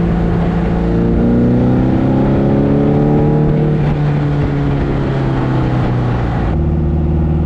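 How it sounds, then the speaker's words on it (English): A Porsche 550 Spyder engine runs close and loud, a steady droning exhaust note with slowly shifting pitch and a sudden change in tone near the end. "Hopefully it's coming through here pretty well so you can actually hear the motor."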